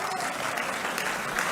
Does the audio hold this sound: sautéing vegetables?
no